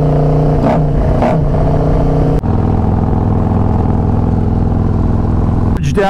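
Harley-Davidson Road Glide motorcycle engine droning steadily while riding, a loud continuous mid-range hum with brief rising rev swells early on and a sharp shift partway through.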